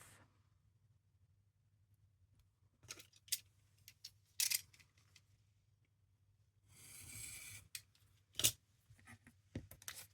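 Scissors snip through small squares cut from 6x6 paper sheets during a papercraft project: a few short, crisp cuts in separate bursts, close and fairly quiet, with no talking.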